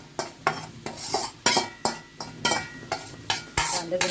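Two small onions and some garlic are stirred in a pan, with a utensil scraping and clinking against the metal in regular strokes about twice a second over a low sizzle.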